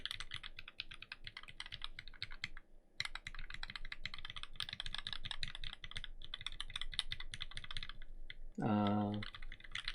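Keystrokes on a Pearl Boards Pandora keyboard with a stainless steel plate and GAT ink black keycaps, no case or plate foam, clatter in a steady, dense stream for several seconds, close and moderately loud, with a brief louder tonal sound near the end.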